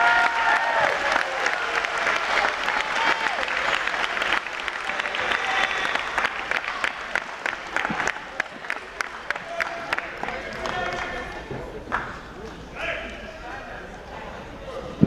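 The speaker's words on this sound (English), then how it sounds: "Y'all can give them a round of applause." A crowd applauds athletes at a spring national signing day, dense clapping that gradually thins into scattered individual claps before fading, with voices murmuring underneath.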